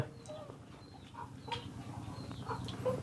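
Farm chickens of a bought breed cluck and murmur in short scattered calls over a low, steady rumble, fairly close, with no one speaking.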